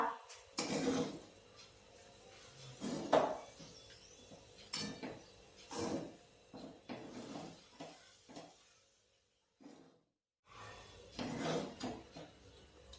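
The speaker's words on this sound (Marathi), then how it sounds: "आता आपण कोथिंबीर छान मिक्स करूया." Spoon stirring coriander through poha in a pan over a gas flame, a run of scraping and clinking strokes at close range with a soft sizzle, a brief silent gap near the end and no talk.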